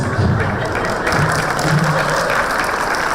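Audience applause at a medical symposium comedy talk in Indonesia, a loud, dense and sustained wash of clapping that fills the whole moment without a break.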